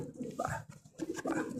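A racing pigeon coos in short, throaty bursts close by, with a low background murmur.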